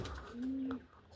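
A pigeon or dove gives a single drawn-out coo, fairly close and clear, with a faint flutter around it that may be it landing; no one speaks.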